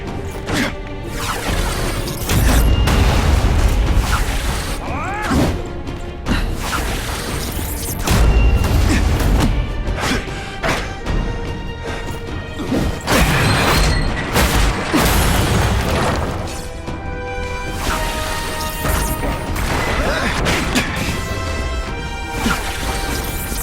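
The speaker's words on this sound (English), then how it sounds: "No one gets left out when I use the seismic blast." A seismic blast attack in The Amazing Spider-Man 2 video game brings a loud, dense stretch of crashing booms, heavy impacts and clattering debris, with repeated surges of force over about twenty seconds.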